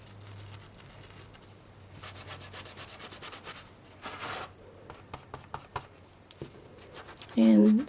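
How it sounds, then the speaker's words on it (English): A brush scrubs chalk paint onto a dried piece of glue clay for a bread-and-glue mosaic tile frame, giving soft, close, intermittent rubbing strokes at low level, with a brief sharper noise near the end. "then you're going to scrub it onto your dried piece of the glue clay."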